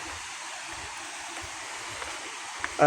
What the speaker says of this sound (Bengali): ঝর্ণার আওয়াজ পাওয়া যাচ্ছে, চলে আসছি ঝর্ণার কাছে